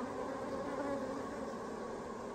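A honey bee swarm settles onto a hive frame of eggs and brood, producing a dense, continuous buzzing hum at close range with no voices.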